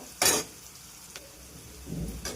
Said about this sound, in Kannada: ಮೆಣಸಿನ್ಕಾಯಿ ಸ್ವಲ್ಪ ಚೆನ್ನಾಗಿ ಫ್ರೈ ಆಗಬೇಕು, ಖಾರ ಎಲ್ಲ ಬಿಟ್ಕೋಬೇಕು.